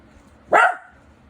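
A pet dog gives a single short, sharp bark, close and loud against a quiet room, with nothing else heard around it.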